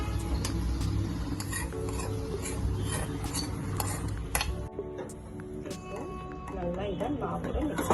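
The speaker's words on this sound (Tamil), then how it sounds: "நல்லா இதை மாவோட மிக்ஸ் பண்ணிடலாம்." Sautéed seasoning with asafoetida is stirred into kuzhi paniyaram batter, a spoon scraping and clinking against a bowl or pan in repeated strokes, with faint sizzling and kitchen clatter in the background.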